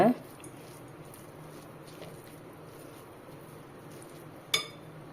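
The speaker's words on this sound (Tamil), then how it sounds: "இப்போ கலந்து விட்டுடலாம் நல்லா கலந்து கொடுங்க" A spoon stirs rava paniyaram batter in a bowl, making faint soft squishing and scraping sounds, with a sharp clink of metal against the bowl near the end.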